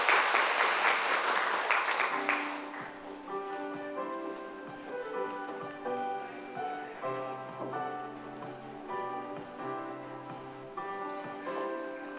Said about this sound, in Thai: ขอเชิญท่านผู้ มีเกียรติทุกท่านปรบมือต้อนรับ